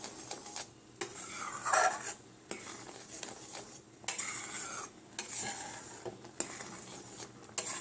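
Semolina halwa with milk and cashews stirred in a pan, close scraping and clinking strokes over a soft sizzle, coming in uneven bursts with short pauses, no talking.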